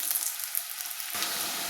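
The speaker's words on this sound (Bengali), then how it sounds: "এবারে দিচ্ছি কেটে রাখা পেঁয়াজ" Chopped onion drops into hot oil with cumin and five-spice seeds in a pan, giving a sudden bright sizzle that swells and crackles steadily, close and alone.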